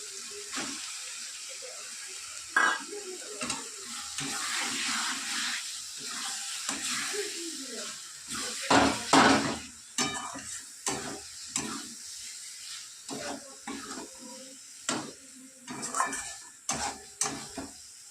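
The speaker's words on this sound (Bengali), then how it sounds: "এইভাবে একটু পাঁচ মিনিট কষে নেবো" Three hundred grams of raw prawns sauté in a hot pan, sizzling and spitting under sharp clanks of a spatula scraping and stirring, with uneven bursts and brief pauses.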